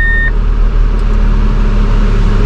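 A Nissan Frontier Platinum pickup engine hums low and steady at close range, with a short electronic chime at the very start.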